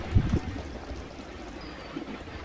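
Banded mackerel pieces slide into a pan of simmering, oil-topped tamarind fish gravy, giving a soft splash and brief bubbling gurgles near the start, followed by a quieter, steady simmer.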